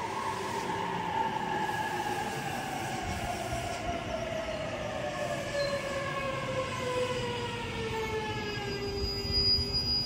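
An express train rolls into a station on the Joban Line, wheels squealing in long descending tones over a continuous rumble of rail noise, with no voices.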